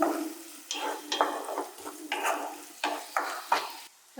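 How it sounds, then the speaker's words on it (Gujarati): A spoon stirs garlic paste in a pan for karela-peel chutney, making repeated scraping strokes every half second or so over a soft sizzle, close and fairly quiet. "મિત્રો આ પેસ્ટ નાખીએ હવે અને ચમચાની બરાબર મિક્સ કરી દઈશું"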